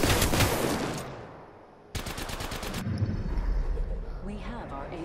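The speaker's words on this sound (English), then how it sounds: "Definitely getting shot out the air" Rapid automatic gunfire in Apex Legends, loud bursts of repeated shots early on and a dense volley near two seconds, with game effects continuing beneath.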